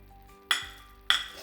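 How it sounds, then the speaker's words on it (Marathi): Fried dry fruits being stirred into wheat flour sheera in a pan, giving two short metallic scrapes and clinks of a spoon against the pan, close and moderately loud with quiet gaps between. "आता याच्यामध्ये आपण फ्राय केलेले ड्रायफ्रुट्स घालून घेऊया."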